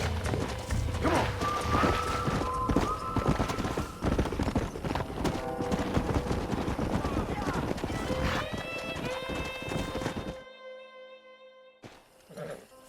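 In Red Dead Redemption a horse gallops in loud, rapid hoofbeats with neighing and whinnying over busy game music, with voices talking, before everything drops out near the end.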